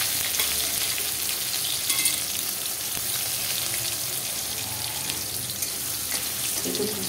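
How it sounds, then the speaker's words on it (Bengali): Chopped tomato stirred in hot oil for a Bengali banana-flower and shrimp dish, a loud continuous sizzle with scraping and rustling from the stirring, steady and close throughout. "দিয়ে এটাকে আমি তেলের সঙ্গে ভালো করে নেড়ে নিচ্ছি"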